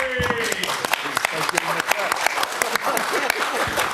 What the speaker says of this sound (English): I think we deserve to give Frank Warren a clap